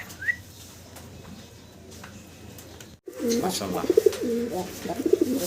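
Pigeon cooing from a young male bird at a pigeon breeder's loft, a run of soft rhythmic coos close by starting partway through after a quieter stretch of low background noise.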